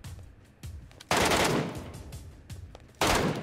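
Loud bursts of rapid gunfire in a game, coming in several sharp volleys with brief quieter gaps between them.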